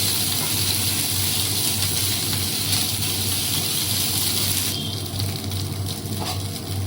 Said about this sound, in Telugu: ఇలా పచ్చి వాసన పోయి కొంచెం ఈ అల్లం వెల్లుల్లి పేస్ట్ అనేది ఆయిల్లో వేగాలి